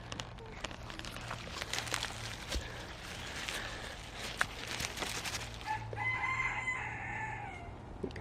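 Roosters crow and cluck in the background of a busy outdoor onion harvest, with rustling and handling noises up close throughout.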